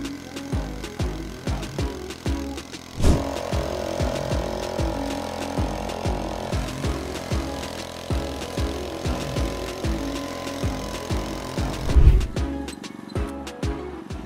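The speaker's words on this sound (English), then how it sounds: "Flail mower." A tractor-driven flail mower clatters steadily through a meadow, a loud, rhythmic mechanical chopping and engine drone that swells and pulses over about fourteen seconds with no talk.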